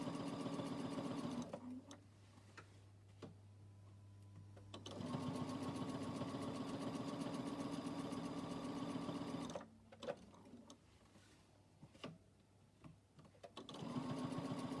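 Sewing machine stitching a quilt in ruler-work quilting, running in steady whirring bursts with pauses between runs, close and clear with no talking.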